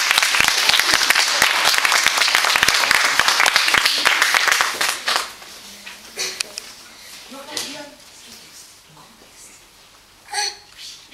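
An audience claps loudly for a child about to perform. Dense applause fills the first few seconds, then fades into scattered claps, shuffling and quiet voices.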